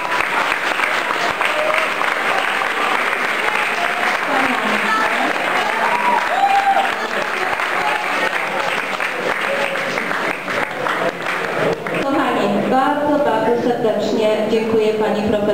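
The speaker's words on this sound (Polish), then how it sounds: "naprawdę gromkie, gromkie brawa" Loud, sustained audience applause for young performers at a school Valentine's Day event, a dense wash of clapping that runs throughout with some voices and music-like tones rising near the end.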